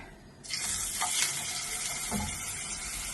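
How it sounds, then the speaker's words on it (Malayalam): Fish pieces hitting hot oil for fish biryani, a sudden loud sizzle that settles into a steady, close crackling fry with a few soft clinks, no talk. "ഫുള്ള് പൊരിയേണ്ട ആവശ്യമില്ല ഫിഷ് ബിരിയാണി വെക്കുമ്പോൾ"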